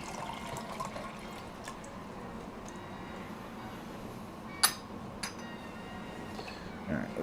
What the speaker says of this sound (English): let's go ahead and pour the boiling water into there